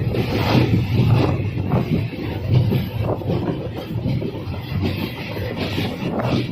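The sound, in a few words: train crossing the Godavari bridge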